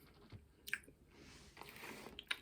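Close, quiet chewing of a sour Warhead candy, with soft wet squishing and a few sharper crunchy bites over a couple of seconds, and no talk.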